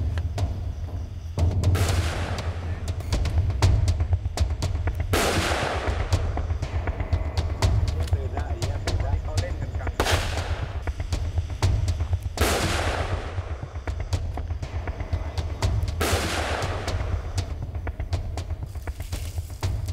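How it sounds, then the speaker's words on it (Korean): Firecrackers set off by farmers at night to drive off a wild elephant: a run of loud sharp bangs, several sudden blasts spaced a few seconds apart over a constant low rumble. "불빛을 비춰도 피하는 기색이 없자 농부들은 다급히 폭죽을 터뜨립니다."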